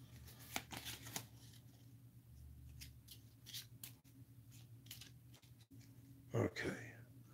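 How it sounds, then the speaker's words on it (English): Playing cards shuffled by hand during a solo tabletop game of Pandemic, soft riffling bursts recurring over several seconds beneath quiet speech, ending in one louder riffle near the close. "Oh, I have to keep shuffling now."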